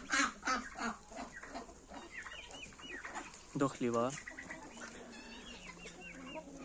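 Chickens cluck and a rooster crows nearby, with a brief spoken phrase early on and rustling farmyard background.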